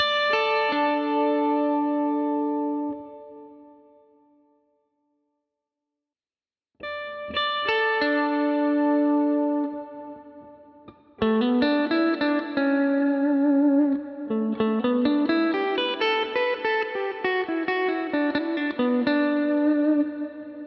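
Electric guitar through a Strymon Big Sky reverb pedal: a chord rings out and fades to silence, then returns followed by a series of picked notes and chords, each washed in lush, long-sustaining reverb, played alone.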